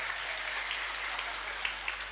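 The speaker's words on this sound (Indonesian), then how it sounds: "Tepuk tangan." Audience applause at an Islamic religious gathering in Pamekasan, a dense steady clatter of many hands clapping at moderate loudness for the full duration, with no speech.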